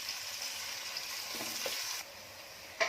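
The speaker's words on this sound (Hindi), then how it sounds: "तेल गर्म हुआ, उसमें जा रहा है अपना प्याज।" Onion frying in about three big spoons of hot oil for a Konkani-style mutton and pea pulao, a steady close hiss that drops slightly near the end before a brief sharp clatter.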